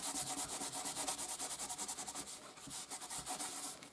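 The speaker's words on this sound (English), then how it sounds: "you just want to buff over the top. And you can see you're removing the excess ink from the heat embossing" Quick rhythmic buffing strokes rub excess Distress Oxide ink off heat embossing on a card, a soft, fast repeated swishing at close range with no talk.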